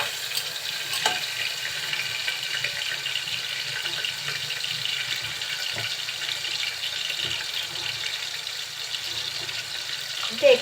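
Cleaned prawns tossed and fried in a pan for a prawn and yam curry, giving a continuous soft sizzle with intermittent light stirring clicks, close by and fairly even throughout.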